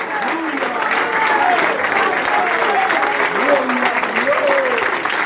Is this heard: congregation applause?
yes